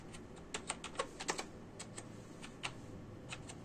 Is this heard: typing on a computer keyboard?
yes